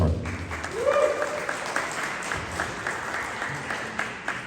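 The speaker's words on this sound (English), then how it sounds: "Please get a round of applause to her." An audience at a meeting in a Bronx school breaks into sustained applause, moderately loud and steady, with a brief voice calling out near the start.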